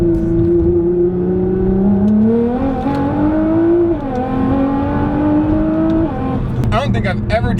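A 700 HP Nissan GT-R engine revs up loud and close, pitch climbing through gears with brief shifts, then a rattling burst near the end.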